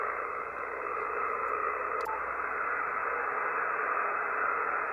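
Power line noise comes through an FTDX5000 radio receiver as a steady, harsh band-limited grinding hiss, constant in level throughout with no speech.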